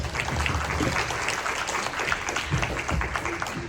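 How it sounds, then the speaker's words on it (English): Soft, steady audience applause at a cancer resilience and recovery workshop, a dense, distant wash of many hands clapping without a break. "Give her a round of applause."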